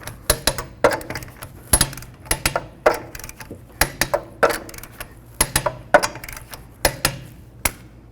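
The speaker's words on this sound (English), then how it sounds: "Torque your lug nuts to 83 foot-pounds." A torque wrench tightens lug nuts on a car wheel, producing a steady series of sharp metallic clicks and knocks in quick irregular bursts, close and fairly loud, with no voices over it.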